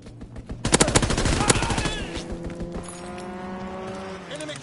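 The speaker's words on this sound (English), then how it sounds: "Enemy strafing run inbound." Rapid bursts of aircraft strafing gunfire rattle out in the Call of Duty WW2 video game, loud for about a second, then fade into a low hum and distant battle noise.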